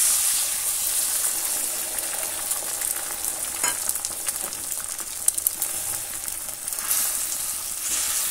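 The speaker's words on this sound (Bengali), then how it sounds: "তো অমলেটটা এখন ভেজে নেব" Omelette with chopped onion and chili frying in a pan, a steady close sizzle that holds for the whole stretch with a few brief crackles and pops, and no voices.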